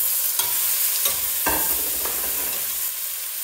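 Tomato going into a hot pan with chiles, giving a soft steady sizzle broken by a few sharp stirring scrapes, the loudest burst mid-clip, heard close with no voices.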